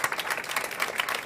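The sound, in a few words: audience applause for panel speakers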